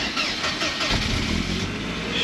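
A Mercedes 220E that keeps cutting out cranks and catches, its engine starting up close and loud and settling into a steady running rumble with no talking.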